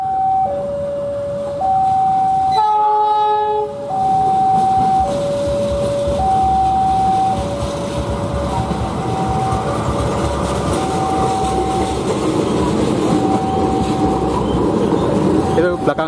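Rumbling passenger rail cars being shunted roll past close by at a railway workshop while a two-tone horn or siren repeats steadily over the noise, with a brief clanking burst early on.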